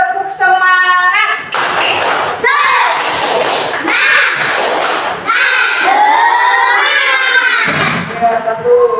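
A school class of children doing a rhythmic spirit clap, loud and close, with bursts of patterned clapping mixed with children chanting and shouting together.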